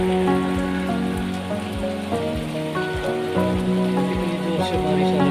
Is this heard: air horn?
no